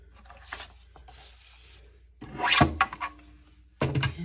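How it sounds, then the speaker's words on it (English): Scraping and rubbing of a blade or scissors through paper or card while trimming the edge of a handmade journal cover, close up, with a couple of louder rasping cuts and a soft thunk. "Let's go ahead and trim this side."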